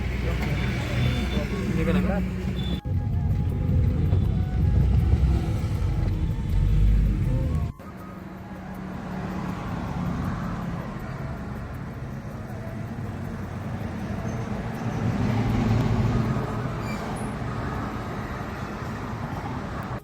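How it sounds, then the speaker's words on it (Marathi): Riding on a bus on a trip toward Pune, a steady engine rumble and road noise fill the cabin throughout, with people talking over it. "आता आम्ही बस पकडली या गावातून आणि आता पुढं चाललो आहे"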